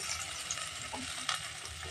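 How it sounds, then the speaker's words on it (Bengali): Sattu gram flour mixed with ginger paste sizzles in hot oil while being stirred, making a constant soft frying hiss with an occasional faint scrape of the spoon. "আদা বাটাটা দিয়ে ভালোভাবে মিশিয়ে নিয়ে এই তেলের মধ্যে দিয়ে দেব 1 টেবিল স্পুন ছাতু"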